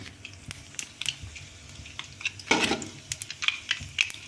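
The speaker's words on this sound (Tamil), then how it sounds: "இப்போ வதக்குறோம், கடுகு போட்டு வதக்குறோம்" Mustard seeds sautéing in hot oil: a steady soft sizzle with scattered crackles and pops, plus a brief louder burst of frying partway through, close by and without talk.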